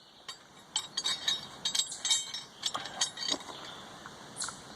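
A 7/16 wrench and extender bar are handled beside a Pontiac Grand Prix GXP, giving a run of quick metallic clicks and clinks, close and fairly soft, that thins out toward the end.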